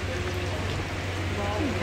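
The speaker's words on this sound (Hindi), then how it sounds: "बहुत तेज बारिश जो है स्टार्ट हो चुकी है" Dense, steady downpour of heavy rain hissing on surfaces, constant and close, with a faint voice under it.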